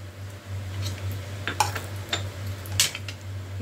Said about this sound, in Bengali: তার মধ্যে আমি দিয়ে দিচ্ছি একটু কাজু কিশমিশ। এগুলো সামান্য একটু নেড়ে নেব